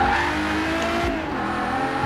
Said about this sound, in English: Hear that sound? I wonder what kind of engine's under the hood of this thing.